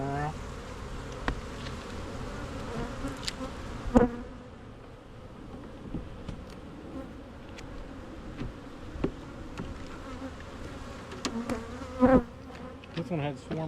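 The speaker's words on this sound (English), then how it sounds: "Bees running around." A steady drone of honeybees swirls around a hive being inspected for swarm cells, close and continuous, with individual bees buzzing past louder now and then and a couple of brief clicks.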